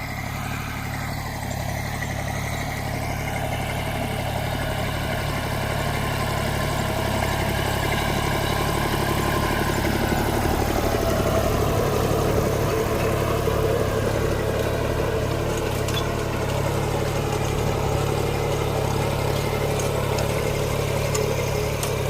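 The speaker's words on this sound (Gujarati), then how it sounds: "બધું જે થાય મિની ટ્રેક્ટરથી થાય છે." A mini tractor engine runs steadily in a tobacco field, its low, constant drone close and unbroken with no talking over it.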